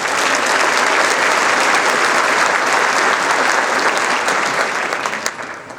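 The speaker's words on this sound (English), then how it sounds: "Let's give her a round of applause." Loud, sustained audience applause at an annual meeting honoring the board chair, a thick continuous roar of many hands clapping close by that holds steady for several seconds before easing slightly at the end.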